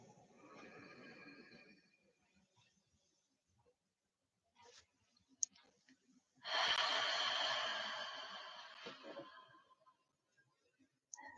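A single slow, deep breath drawn in during a calming exercise, a soft rushing inhale close to the mic that swells and then tapers away, with quiet gaps on either side.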